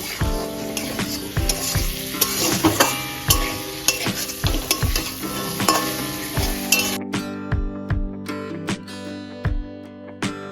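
Cauliflower and potatoes fry with spices in a pan, a close sizzle under repeated rhythmic stirring scrapes and clinks; the sizzle fades partway while the stirring strokes carry on.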